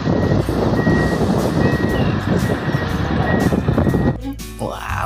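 A yellow toy sand-hauling dump truck gives high electronic reversing beeps over a loud, rumbling background, and the noise cuts off abruptly near the end.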